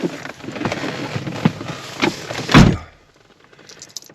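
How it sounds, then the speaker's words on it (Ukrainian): A door is shut at night during a fishing trip at the Burshtyn reservoir. A few scattered knocks and rustles lead up to one loud, close thunk, followed by near silence. "Зразу хочу двері закрити."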